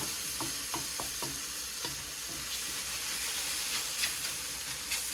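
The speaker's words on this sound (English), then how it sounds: "let's scrape up any of those little bits on the bottom of that pan" Marsala hits a hot pan and sizzles with a steady steamy hiss while a utensil scrapes and taps the bottom in several quick strokes, loud and close throughout.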